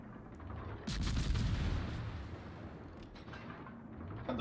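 Bombs dropped by a Tromp tier 10 Dutch destroyer in World of Warships land as a cluster of heavy, rumbling blasts that swell, then fade into a lingering low rumble with a few fainter distant reports.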